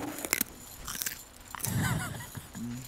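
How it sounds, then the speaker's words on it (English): Someone bites and chews a raw carrot close to the microphone, giving a few sharp crunches followed by wet, steady chewing. "I don't want to hear you chewing on."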